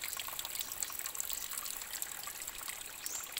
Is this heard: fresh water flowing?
yes